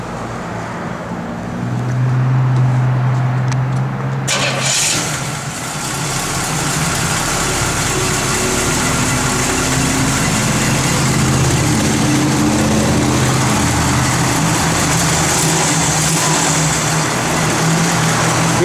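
A 1969 Pontiac Firebird convertible engine idles steadily at close range, a low continuous rumble that runs the whole time after a brief quieter stretch and a sharp disturbance near the start.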